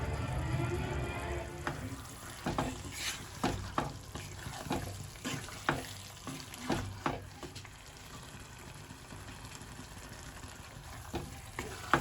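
Fried masala stirred into chicken bhuna sizzling in a pan, a constant frying hiss broken by a dozen sharp scrapes of the spoon against the metal, close up with no talk.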